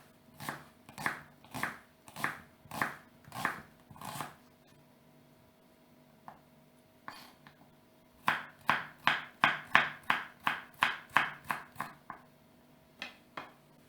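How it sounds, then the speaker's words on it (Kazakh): Onion being finely chopped with a knife on a board while making a chicken pie, in two bursts of rapid, evenly spaced knocks, close and clear, with a short pause between them. "Енді пиязды ұсақтап тураймыз."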